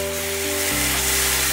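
Tomatoes hit a hot pan while cooking palak paneer at home, giving a steady, loud close-up sizzle with a low, constant hum underneath and no voices.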